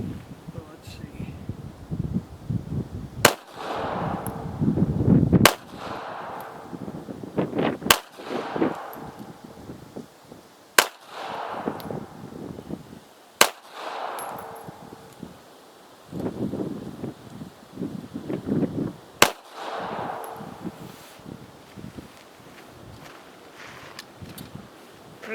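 Taurus Spectrum pistol fired at a shooting range, with several sharp, loud single shots spaced a few seconds apart, irregular in rhythm, over breezy outdoor noise and people talking between shots.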